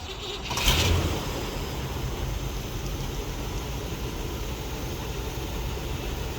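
An old car engine, freshly filled with 10W30 oil, idles just after startup with a steady low rumble and a brief swell at the start, then settles into an even, continuous drone.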